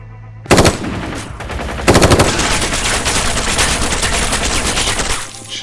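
Automatic gunfire in the tactical shooter Ground Branch: a short burst, then a longer sustained stream of rapid, loud shots close by, ending abruptly.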